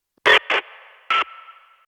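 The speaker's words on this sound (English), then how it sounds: "The first one is this pitched noise" Three short bursts of pitched noise, each one leaving a ringing tonal tail that decays slowly, sounding synthetic and close.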